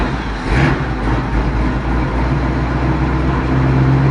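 The engine of a 1949 Fargo truck idles a little high, a steady, loud, close rumble that holds an even low drone throughout, with no talk over it.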